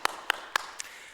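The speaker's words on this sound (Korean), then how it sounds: "우리 하나님께 영광의 박수 올려드리겠습니다" A few sharp, separate claps ring out in a church congregation, close and sparse, four quick hits spaced evenly rather than full applause.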